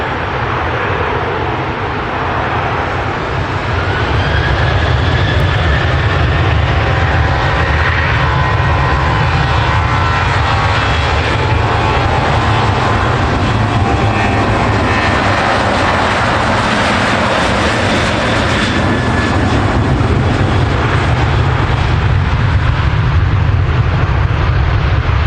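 A jet aircraft roars on the South Runway at Manchester Airport, a loud, sustained rumble that builds after a few seconds and holds steady throughout, with a faint rising whine, no voices.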